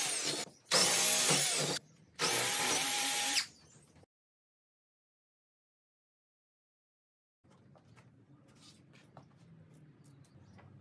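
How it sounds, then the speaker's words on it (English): Power drill boring partway into a wooden board for a flip-top bench cart, two loud, close bursts of high whining drilling separated by a short pause, then silence, then faint workshop handling noises. "I'm only drilling halfway through the board"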